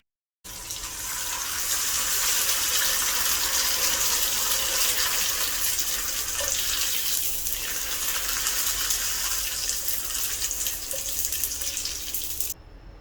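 Tapioca papad frying in hot oil, a dense, loud sizzling hiss that starts abruptly and holds steady for about twelve seconds at close range before cutting off.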